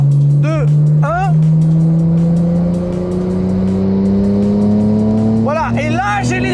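A Nissan GT-R R34 engine accelerates hard above 3000 rpm, its loud, steady drone climbing in pitch throughout, with people speaking briefly over it at the start and end.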